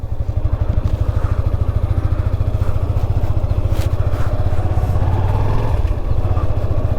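An ordinary road motorcycle, not an off-road bike, runs loud and close on a trip to the white desert of the Rann of Kutch, its engine putting out a steady rapid throb with a clattering texture throughout.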